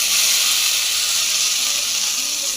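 Hot mustard seeds and curry leaves poured into coconut chutney give off a loud, steady hiss and sizzle, a bright continuous frying noise held close for the whole stretch.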